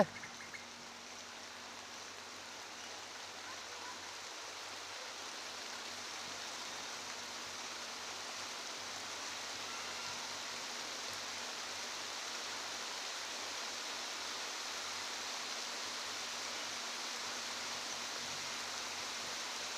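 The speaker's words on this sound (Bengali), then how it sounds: "বৃষ্টিটা জোরেই পড়ছে" Heavy rain falls outdoors beside a fish pond, a steady, dense broadband wash that holds evenly for the whole stretch with no voices over it.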